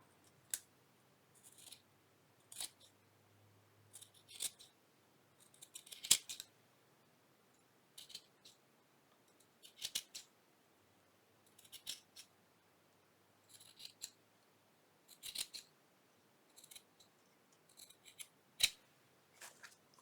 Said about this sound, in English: Might just trim it off.